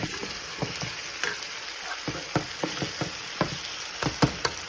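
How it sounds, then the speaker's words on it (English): Vegetables (onion, squash and potato) fry in a soup pot for a vegan dinner. A soft bed of sizzle runs under repeated close scrapes and clacks of a spoon stirring at an irregular pace. "so I'm just gonna stir from time to time so they cannot get burned"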